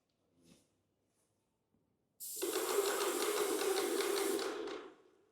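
A Chinese paint sprayer machine runs for about two seconds with a loud, steady hissing spray marked by a fast mechanical pulsing, starting abruptly after near-silence and then tapering off.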